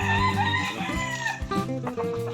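Chickens cluck busily while a rooster crows, a loud, dense farmyard chorus filling the whole short stretch.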